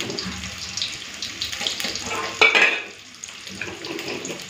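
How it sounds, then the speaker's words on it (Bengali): Fresh ginger rinsed under a running kitchen tap, a steady splashing water stream with a brief louder gush midway, close and moderately loud, no talking. "আদাটা একটুখানি ধুয়ে নিই।"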